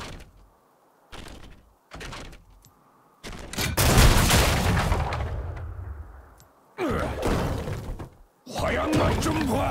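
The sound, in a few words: powder keg explosions from video game League of Legends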